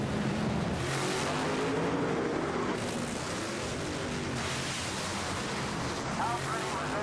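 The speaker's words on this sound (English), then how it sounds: "How pretty was that side-by-side drag race?" Top Fuel and Pro Modified drag racing cars run side by side at Virginia Motorsports Park in Richmond, a loud, continuous engine roar that swells and shifts as the cars go by, with an announcer talking over it.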